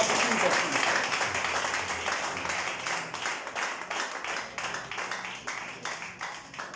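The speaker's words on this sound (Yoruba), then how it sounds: "Ẹ pàtẹ́wọ́ fọ́ba àwọn." An audience applauds a king at a Yoruba gathering, a sustained wash of many clapping hands that carries for several seconds and gradually thins toward the end.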